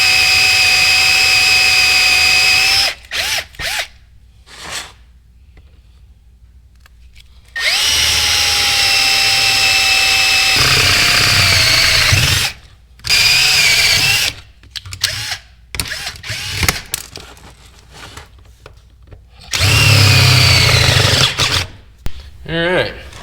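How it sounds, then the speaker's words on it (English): A power drill bores out the pressed-in parts of a dirt bike clutch basket in several loud, whining runs separated by silences, with the motor pitch sliding as it spins up and down. "Got all those drilled out. Started with a smaller bit, worked my way up."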